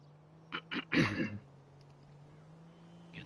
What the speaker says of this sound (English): constantly clearing my throat